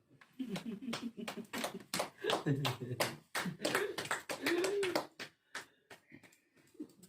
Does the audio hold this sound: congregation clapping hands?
yes